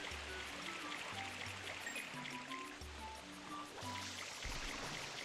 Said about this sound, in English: I think the waterfall is probably pushing it away.